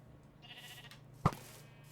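A sheep in a Minecraft-style survival game lets out a short bleat, followed by one sharp hit sound, close and clear against a quiet background hum.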